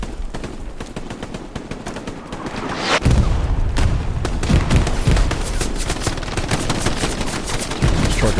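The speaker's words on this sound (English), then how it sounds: "MG42s there." Rapid bursts of MG42 machine gun fire from the Hell Let Loose video game, loud, close and dense, crackling in quick succession with heavier strikes setting in about three seconds in and continuing steadily through the rest.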